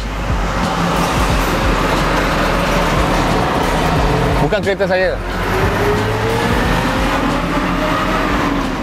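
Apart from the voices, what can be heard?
traffic noise through an open car window at a toll plaza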